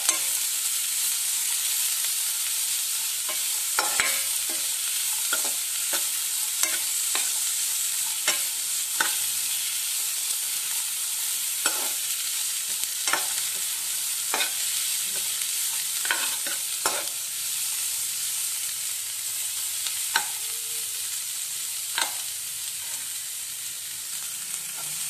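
Onions frying in a pan for aloo kurma, giving a continuous close sizzle with frequent short clicks and scrapes as they are stirred, and no voices.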